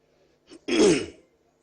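A man with a hoarse voice clears his throat once, a short harsh rasp that stands alone in a quiet room.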